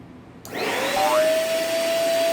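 A vacuum cleaner switches on abruptly and keeps running with a steady loud roar, a rising whine settling into a constant high tone, used near a dog in a home setting.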